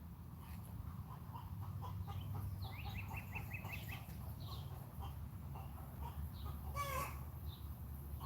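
A chicken clucks near a chicken house in a series of short, quiet calls, with a sharper squawk near the end, over a low outdoor rumble.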